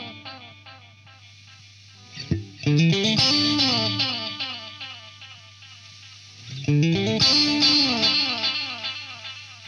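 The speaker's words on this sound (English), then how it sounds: "the final knob, which is the echo tone, and that is a tone control for the repeats themselves" Electric guitar through a T-Rex Binson Echorec tape echo, with trailing repeats that darken and brighten as the echo tone knob is swept; two strummed phrases, each ringing into a wash of echoes.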